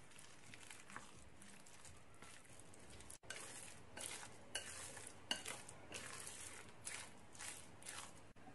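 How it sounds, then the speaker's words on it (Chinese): Chopsticks stir minced pork filling seasoned with oyster sauce, light and dark soy sauce and chopped scallion and ginger, making quiet, close, repeated wet scraping and tapping strokes against a bowl. "用筷子搅拌均匀之后腌制10分钟左右"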